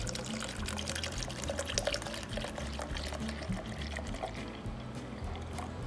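Crawford's liquid is poured into a pork injection mix, a steady close splashing pour that runs throughout with no talking.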